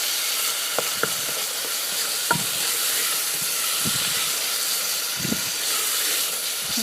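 A thick curry paste for Khaub Poob cooks in a pot with a steady, loud sizzle and hiss, broken by a few soft stirring knocks and pops, close and without talk.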